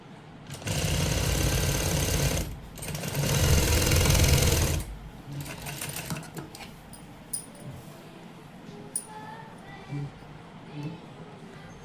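A sewing machine stitches a blouse sleeve, running close and loud in two bursts of about two and four seconds. Quieter handling and faint clicks follow.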